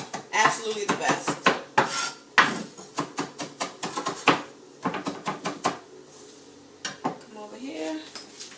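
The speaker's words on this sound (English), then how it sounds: "Chop some parsley up really quick" A knife chops fresh parsley on a cutting board in a home kitchen, making a run of quick, sharp, close taps in irregular bursts that thin out toward the end.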